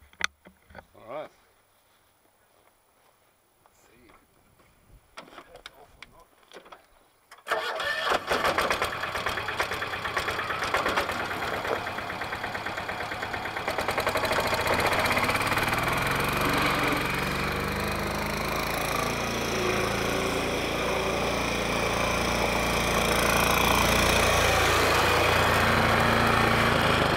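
A Westwood diesel ride-on mower sits quiet amid a few clicks and faint sounds, then its engine cranks and catches, settling into a loud, steady, close diesel clatter at idle; a voice is heard briefly during the quiet opening.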